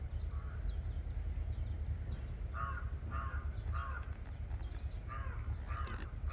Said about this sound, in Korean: 까마귀 울음소리는 저 하늘의